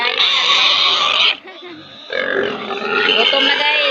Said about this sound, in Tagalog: Gutom na akong mga balik. Akong mga baboy. Gutom na.